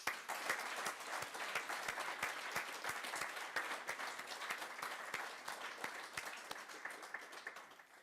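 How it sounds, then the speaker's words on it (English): An audience at an architecture prize ceremony applauds the Larvik prize winners, with sharp individual claps standing out in an even, moderately distant round of applause that fades slightly at the end. "a big applause for Larvik"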